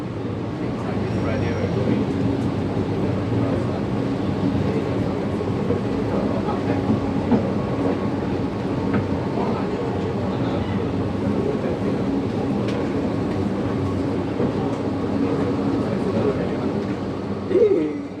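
A crowded Bangkok MRT train on the move gives a steady loud rumble and rail drone with faint clicks, while voices chatter throughout over the constant running noise.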